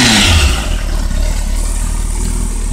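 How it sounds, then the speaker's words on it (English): A 2007 Kawasaki ZX-6R sport motorcycle engine roars loudly up close, rising in a quick rev at the start then settling into a rough, throbbing idle. "I'll give it a couple more revs and then shut it down."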